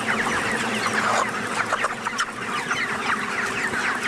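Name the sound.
chickens clucking in a poultry farm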